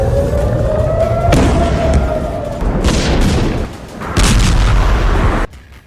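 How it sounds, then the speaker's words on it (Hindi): Loud, heavy booms and rumbling blasts from a missile attack on an Iranian nuclear site, a sustained roar with sharper bursts midway and toward the end before an abrupt cutoff. "ईरान के इस नए मिसाइल हमले की ये तस्वीरें देख लीजिए"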